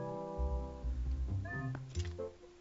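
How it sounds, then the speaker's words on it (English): Cat meowing in the video game Zelda: Twilight Princess, a few drawn-out, close, clear meows with rising and falling pitch, alone without talk. "Hey, can we pick up the cat?"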